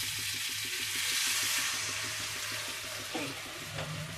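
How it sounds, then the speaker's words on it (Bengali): Water splashes into a hot pan of frying potatoes for a vegetarian pointed gourd curry, adding a brief burst of hiss over a steady sizzle and a low rhythmic hum in the kitchen. "এবার এর মধ্যে আমি জল দিয়ে দেবো।"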